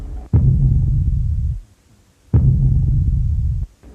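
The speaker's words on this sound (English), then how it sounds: "we used primarily the sound of the canoe being lifted out of the pool and" Two heavy, booming low thuds of a canoe slammed down into a pool, each with a sharp onset and a long rumbling tail, separated by a brief pause, like a massive underwater depth charge blast.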